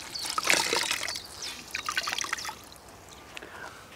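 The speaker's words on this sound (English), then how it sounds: "Now taking one of the terry towels, I'm gonna wet that through," Water trickling and dripping from a wet terry towel being wrung out over a caravan carpet, a close burst of splashy drips that tapers into a few faint scattered drops.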